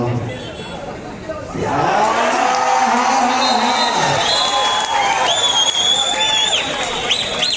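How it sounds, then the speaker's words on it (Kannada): Kabaddi spectators at a Swastik tournament semifinal in Punjalkatte roar with loud, sustained crowd noise, sharp whistles and clapping swelling after a quieter start, with rising whistle calls continuing throughout. "ವೀಕ್ಷಕರ ಸಿಳ್ಳೆಯ ಚಪ್ಪಾಳೆಗಳು ಗಗನದೆತ್ತರಕ್ಕೆ ಮುಟ್ಟುತ್ತಿದೆ."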